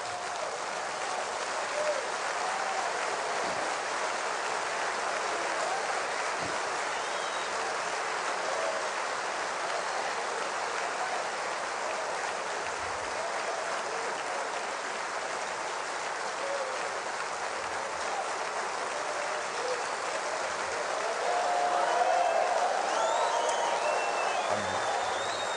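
A standing church congregation at a Brazilian gathering applauds for God, a long even wash of clapping sustained throughout with a faint rise near the end.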